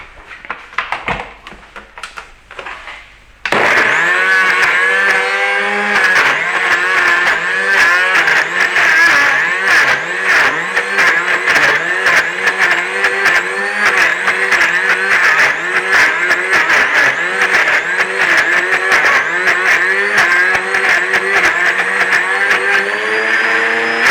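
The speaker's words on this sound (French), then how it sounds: "Et maintenant, on va mixer tout ça." After a brief quiet handling moment, a blender starts abruptly and runs loud and steady on raw wrap ingredients, its motor whine pitching up and down as the load shifts.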